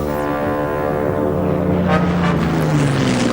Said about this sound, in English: Fokker fighters strafed withdrawing Soviet troops and motorized columns